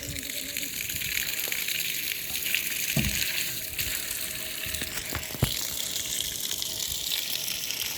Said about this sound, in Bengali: ভাই প্রচুর পানি উঠতেছে